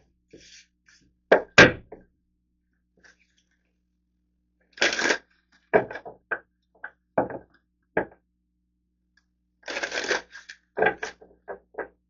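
Oracle cards being shuffled by hand during a reading, arriving as several short crisp riffling bursts separated by pauses, close and fairly loud with no voice over them.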